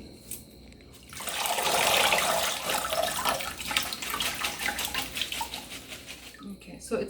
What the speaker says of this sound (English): I'm gonna rinse them